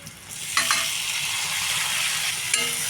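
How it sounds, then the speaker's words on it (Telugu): Onions and tomatoes fry in a pan for a taro curry, making a steady, moderately loud sizzle with a few utensil scrapes and clicks. No one speaks. "ఉల్లిపాయలు బాగా వేసుకొని ఇప్పుడు టమాటాలు కూడా వేసేసుకున్నాం"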